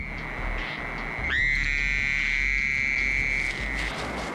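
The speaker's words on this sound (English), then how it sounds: "As night falls, male North American toads call out to females." Male North American toads calling to females at night: a single sustained high, steady trill rises in and holds for about two seconds over a constant low background hum, then stops.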